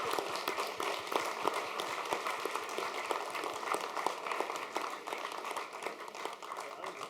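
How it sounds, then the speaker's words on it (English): An audience at a Nantucket history quiz bowl applauds the competing teams with sustained, even clapping from a full room, with faint voices underneath. "Let's give them a round of applause."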